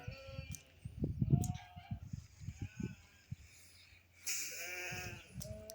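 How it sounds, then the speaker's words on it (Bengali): Dumba sheep and goats bleat in a pen in Saudi Arabia, giving short scattered calls with a longer cry near the end, against faint background noise and occasional thumps. "এখানে ছাগল দুম্বা দুইটাই আছে।"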